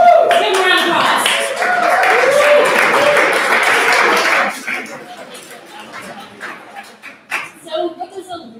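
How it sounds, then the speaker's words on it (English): An audience at a capstone showcase breaks into loud, dense applause for about four seconds, then it fades into scattered claps and chatter as a speaker resumes talking. "Give a round of applause."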